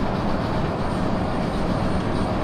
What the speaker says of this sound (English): you can just see down the bottom a train getting filled up with stone